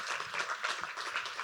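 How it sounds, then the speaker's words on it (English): Brief burst of audience applause at a university women-in-leadership case competition welcome address, dense even clapping from a seated crowd. "So let's just give that a round of applause"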